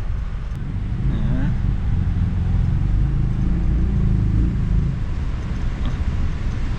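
A 2024 Mitsubishi Xpander GLS automatic is driven while heard from inside the cabin, with a constant low road and engine rumble that stays steady throughout.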